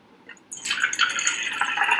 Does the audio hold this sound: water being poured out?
yes